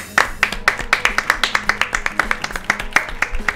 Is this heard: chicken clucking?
no